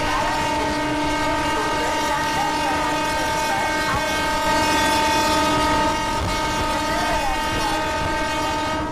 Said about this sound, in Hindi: ट्रेन का डिपार्चर का वक्त हो चुका है तो अभी हम लोग रिलीज़ करके फिर से डिपार्ट करते हैं